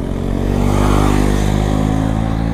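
A KTM Duke 250 motorcycle engine, running low on fuel, catches and keeps running just after a restart, giving a steady, close, loud idle rumble with no talk over it.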